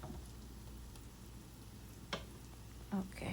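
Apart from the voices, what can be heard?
spices toasting in a pan for dill pilaf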